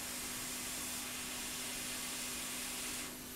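Hot air blowing onto a component on a 2016 MacBook Pro Touch Bar logic board (820-00239) during repair, a steady close hiss that holds evenly for about three seconds before easing slightly at the end, with no talk.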